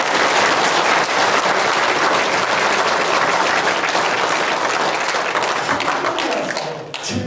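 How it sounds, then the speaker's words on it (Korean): Audience applause at a training session for funeral-rite volunteers, dense clapping with some louder taps, holding steady before tapering off near the end. "이렇게 하면 박수 한번 치는 거라고."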